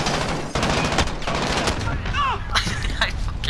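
Rapid automatic gunfire and explosive bursts from a Call of Duty Modern Warfare match, loud and continuous throughout, with a player's voice talking over the shooting.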